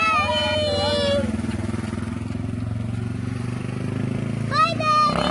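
A loaded DR motorcycle pulls away, its engine note rising and steady close by, while children's voices call out over the running engine.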